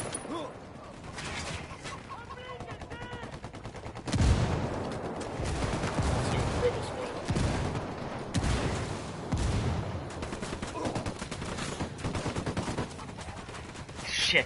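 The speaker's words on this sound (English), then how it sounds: "Here comes the artillery." Artillery and gunfire in a combat video game: a sudden heavy blast, then sustained rattling bursts of automatic fire and further explosions, loud and continuous, with a voice talking over parts of it.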